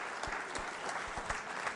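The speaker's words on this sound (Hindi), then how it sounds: "तालियां जोरों से बजाइए मेघा सिंह जी के लिए।" An audience at a school quiz show applauds a contestant, a faint, steady patter of clapping with a few stronger claps standing out at intervals.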